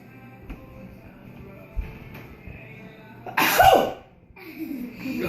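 One loud, sharp sneeze after a big sniff of a strong scent, bursting out suddenly after quiet breathing and a few small sniffs, followed by a short exhale.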